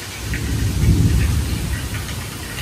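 Heavy rain from an outer band of Hurricane Beryl pours down steadily, with a low, rolling rumble of thunder swelling and fading beneath the dense hiss of the downpour.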